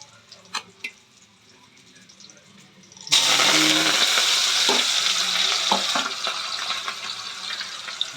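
Mustard seeds and cumin dropped into hot oil, quiet stirring and clinks first, then a sudden loud burst of frying that settles into a steady crackling sizzle with scattered pops.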